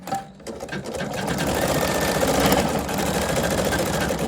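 A Husqvarna Viking Sapphire 85 sewing machine stitching noisily, a steady loud mechanical whirr that builds after a brief start and runs continuously.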